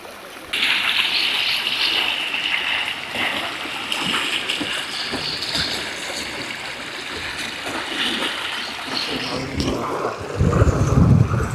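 Water rushing through a canal at the Someshwara lake near Mulbagal, a continuous close splashing flow with wind buffeting the microphone and a burst of louder splashing near the end.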